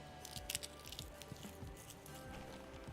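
Crunchy, dry, dead cannabis plant leaves are crushed by hand in an indoor grow tent, giving faint, close, brittle crackles and rustles over a steady hiss.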